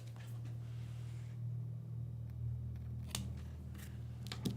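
Scissors trim the ends of a craft ribbon bow in a few quiet, sharp snips near the end, over a steady low hum with no talking.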